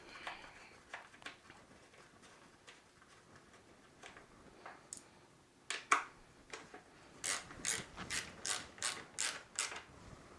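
A ratchet wrench turns a 7/16 bolt holding the airbox on a generator, giving a close series of quick clicking bursts that grow steadier and louder toward the end, with no talk.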